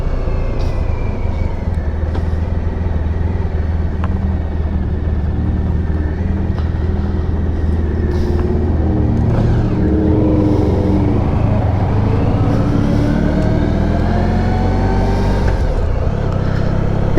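A 1994 Honda ST1100 motorcycle cruises along back roads, its engine droning steadily and loudly throughout with wind rush, pitch rising and falling gently as it shifts and accelerates.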